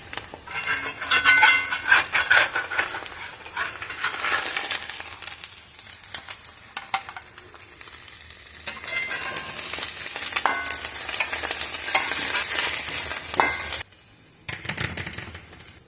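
Eggs and cheese frying in a cast iron pan give an uneven, crackling sizzle that swells and fades, with occasional scrapes and taps of metal utensils close by and a brief quiet gap near the end.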